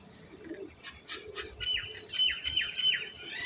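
Wild pigeons gather around scattered rice grain, birds giving faint chirps and squawky calls with a soft flutter of wings, the calls growing busier and a little louder toward the end.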